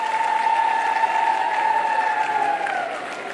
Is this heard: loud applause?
yes